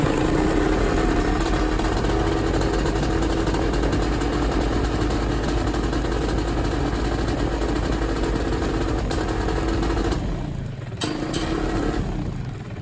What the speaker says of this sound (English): So I've got a well-running paramotor at the moment.